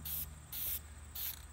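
A spray paint can coating PVC pipe: three short, even hissing bursts in quick succession, close and clear, with brief gaps between them.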